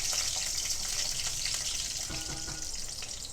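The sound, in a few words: shallots, fenugreek and fennel frying in oil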